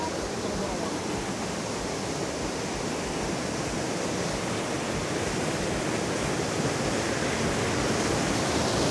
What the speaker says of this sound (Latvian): Man caur apakšu iet ūdeņš tur. Tur ir ūdeņskritums.